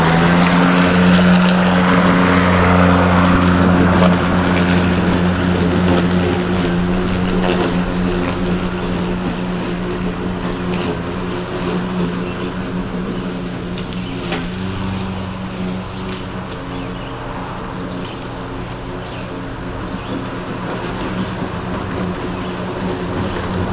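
A Ryobi 40V battery lawn mower runs with its bagger fitted, a steady, close electric-motor drone with a low humming tone that carries on without break for over twenty seconds.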